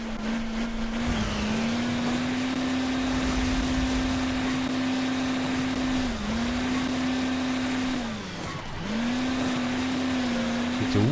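A super diesel vehicle's engine in Hill Climb Racing 2 drones loudly and steadily. Its pitch dips briefly a few times as the revs drop, then climbs back, running without pause for the whole stretch.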